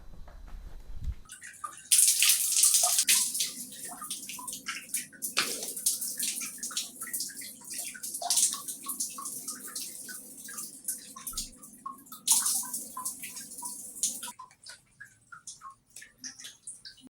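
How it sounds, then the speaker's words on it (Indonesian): Tap water running while someone washes their face, a steady splashing stream with scattered drips and hand splashes that starts after a second and stops near the end. "Cuci muka dulu lah."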